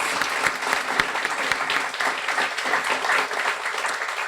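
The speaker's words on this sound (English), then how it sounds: "Let's give a warm round of applause." A graduation audience at a guide dog school ceremony applauds warmly, with a sustained wash of clapping and a few sharper individual claps standing out near the front.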